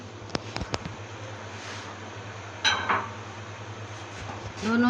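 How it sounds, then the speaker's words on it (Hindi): Macaroni tipped into a pot of boiling water, a few sharp clinks of pasta against metal followed by a brief rattle and a soft bubbling hiss underneath. "अब इसमें हम अपनी मैकरोनी शामिल कर लेते हैं।"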